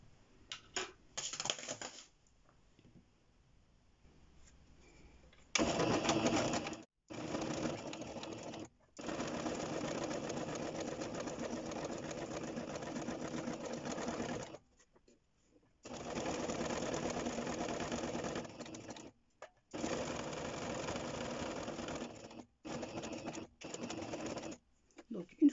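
Domestic sewing machine stitching a straight seam along fabric with backstitches at each end, running in several bursts of steady motor whir with short pauses between them.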